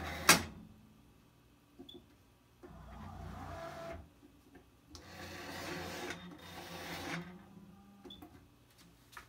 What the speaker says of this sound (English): I'm going to come over here to the cutting machine, which is connected to the computer.